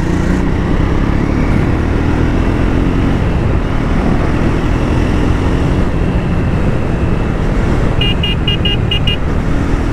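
A 2025 Triumph Speed T4 motorcycle pulling hard in fourth gear on an open road: loud, continuous engine drone mixed with heavy wind rush, and a brief series of short horn toots near the end.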